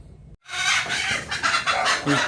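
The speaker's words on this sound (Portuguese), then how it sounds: "Briga de galinha." Hens squabbling and fighting, loud excited squawking and clucking that bursts in after a brief silence and continues in overlapping, agitated calls with no talk.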